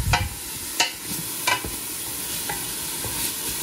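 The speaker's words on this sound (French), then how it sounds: "je mets une dose de riz et je mets l'équivalent de 2 doses et demie de riz" Rice tipped into a pan of sizzling bacon lardons: a steady frying hiss runs throughout, broken by a few sharp scrapes and knocks of a spoon stirring, close by.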